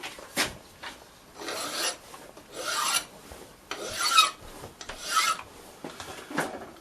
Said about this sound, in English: And I just file because it's still held into the machine.